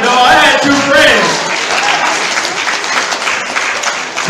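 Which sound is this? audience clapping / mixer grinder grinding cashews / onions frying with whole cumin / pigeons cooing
audience clapping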